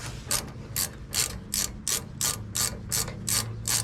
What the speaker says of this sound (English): Better ratchet here to work with than the other one.